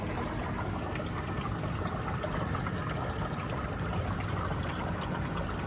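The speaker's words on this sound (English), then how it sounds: "now that shut off and the water solenoid's back, so it's another round of flushing" Water flushes through a coffee machine's water solenoid, a steady close rush and trickle running unbroken and evenly loud throughout.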